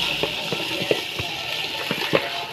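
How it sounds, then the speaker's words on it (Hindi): Water is poured into a cooking pot of browned onions for rice, a steady close gush and splash with a few gurgling pops, alone without talk. "इसमें पानी डालने लगी हूँ"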